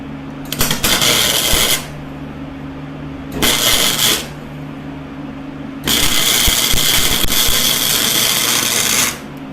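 Flux-core MIG welding stitching a seam on rusted, contaminated pipe: three bursts of loud, steady crackling buzz, the last and longest about three seconds, separated by quiet pauses over a constant low hum.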